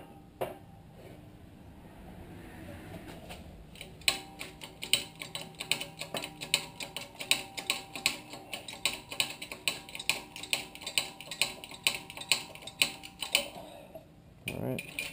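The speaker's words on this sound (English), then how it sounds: "we have the hub up in the press" A shop press forces a front wheel bearing hub on a 1999 Nissan Maxima, producing a steady series of close metallic ratcheting clicks at a regular rhythm after a quieter start.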